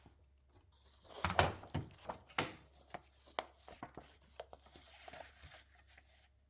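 Scissors or a cutter slice a 4x6 photo card apart for a handmade album, giving a run of faint, close crisp snips and clicks of paper against a quiet background.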